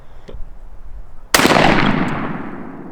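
A shotgun fired during turkey-hunting patterning: one sharp, loud blast after a quiet moment, its boom echoing and fading over the next second or two.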